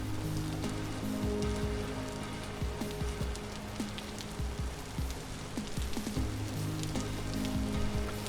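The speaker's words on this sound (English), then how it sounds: "Getting back into rainy territory." Steady rain pattering on surfaces in the Vintage Story survival game, a dense, even hiss with scattered droplet taps continuing without pause.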